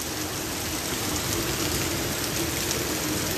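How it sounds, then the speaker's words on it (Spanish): Heavy rain pours onto a street in a steady, dense downpour, a loud, unbroken hiss with no voices. "Y pues el aguacero ahí está, fuerte, fuerte, fuerte."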